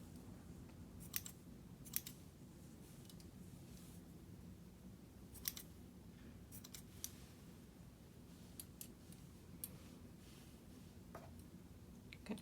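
Scissors snip around a yarn pom-pom being trimmed into shape, producing soft, close, scattered clicks and cuts at an irregular pace over a faint, quiet room hum.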